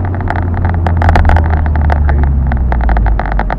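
Honda Civic Type R hatchback driving through a corner, a steady low engine drone with tyre and road noise, heard from close by with no talk.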